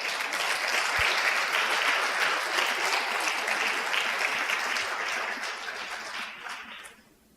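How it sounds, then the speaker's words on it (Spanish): Audience applauding at a family-themed talk, a dense sustained round of clapping that gradually fades and stops, heard alone without voices. "Denle un aplauso a mis chiquillos"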